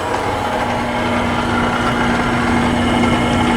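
A drill press's electric motor hums continuously at an even pitch, with a constant mechanical whine and no pauses or changes in speed.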